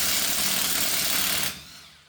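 A half-inch impact wrench rated at 580 foot-pounds rattles loudly and steadily on a truck's lug nuts for about a second and a half, then cuts off abruptly into quiet.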